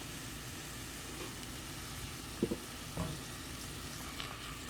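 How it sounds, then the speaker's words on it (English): Corn sizzles in a hot pan with a steady, close frying hiss, broken by a couple of soft clacks as it is stirred. "And the corn is sizzling."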